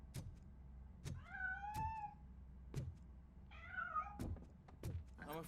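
Two clear cat meows inside the RoboCop: Rogue City video game, each a rising-falling harmonic cry, amid several sharp thumps and knocks against a low steady background hum, with no talking.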